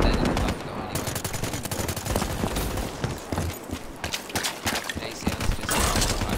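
Rapid automatic gunfire in the Black Ops 3 beta, dense overlapping bursts with explosions and footsteps in a busy multiplayer match, loud and nearly continuous throughout.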